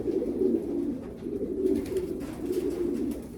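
Racing pigeons in a loft cooing in soft, low, repeated rolling calls, steady and close for the whole stretch with no talking.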